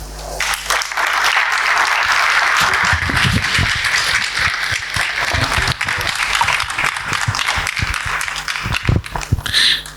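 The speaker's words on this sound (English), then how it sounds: "I think he deserves another round of applause" Sustained, fairly loud audience applause fills a launch event hall in Ghana, steady clapping from a large crowd with some low rumble and murmuring beneath.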